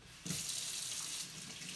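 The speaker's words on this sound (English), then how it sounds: "step one, we're going to wash our hands with soap and water." Water runs from a tap into a sink as hands are washed with soap, a steady close rushing that starts abruptly and eases slightly near the end.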